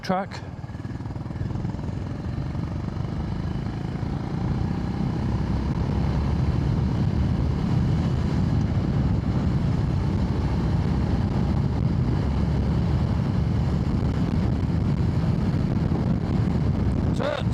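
Honda GB350S motorcycle cruising on a dual carriageway, a steady low engine drone mixed with heavy wind rush, continuous and close, with a rider talking over it.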